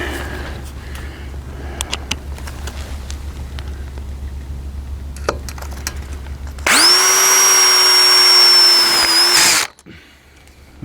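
A power drill drives a self-tapping screw into a greenhouse frame, one loud sustained whine of about three seconds following quiet handling noises, then stopping abruptly.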